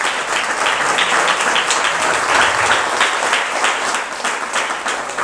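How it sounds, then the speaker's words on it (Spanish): A church congregation applauding loudly, a dense, full roar of many clapping hands that holds strong across several seconds before easing slightly at the end. "Fuerte aplauso."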